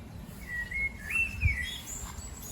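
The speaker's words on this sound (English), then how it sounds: "All we have any evidence of is the bird song," Wild birds sing in open countryside, a thin wandering whistle-like song drifting at a moderate distance over soft outdoor rumble, with a brief low bump midway.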